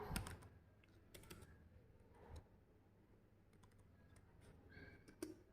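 Typing on a computer keyboard in a quiet room, a soft, irregular run of key clicks with a few sharper taps, no talk.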